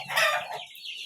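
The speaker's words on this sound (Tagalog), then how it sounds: "Malaking klaseng manok." Native chickens clucking close by, a short burst of bright, scratchy fowl calls that quickly fades.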